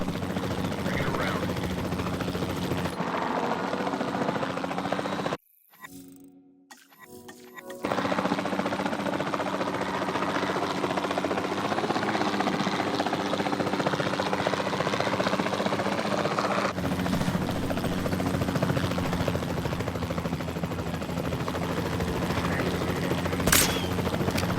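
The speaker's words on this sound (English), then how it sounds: "Then the sensible thing is to take a capture team helicopter." A capture team helicopter in Jurassic World Evolution 2 gives off a loud, continuous rotor and engine drone that cuts out briefly and then resumes steadily, with faint voices in the mix.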